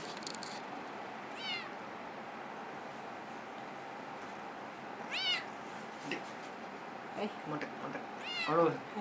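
A cat meows several times, rising calls spaced a few seconds apart and growing louder toward the end, over a steady faint outdoor background.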